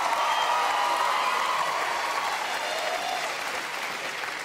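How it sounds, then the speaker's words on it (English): Studio audience applause after a contemporary dance routine on a televised dance competition, a steady roar of clapping with a faint cheer rising early, gradually easing toward the end. "it deserves a clap."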